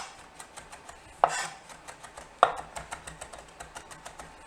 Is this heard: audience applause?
no